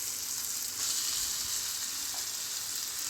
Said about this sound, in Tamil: இந்த டைமில் நம்ம வந்து சிக்கன் ஆட் பண்ணிக்கலாம்.